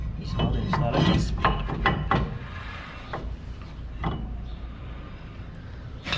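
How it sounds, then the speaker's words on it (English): A new rear brake rotor goes onto a 2007 Chevrolet Silverado 2500HD, heard as close metallic scrapes, clunks and rubbing bursts, busier at first and then sparser over a low rumbling background. "And let me install the new rotor."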